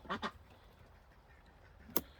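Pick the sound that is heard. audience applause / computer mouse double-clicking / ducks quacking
ducks quacking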